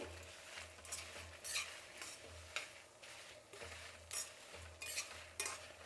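Rasam seasoning is stirred in a pan over a medium flame, with repeated scraping strokes of a spoon against the metal over a faint sizzle, close and quiet, with a low intermittent hum beneath.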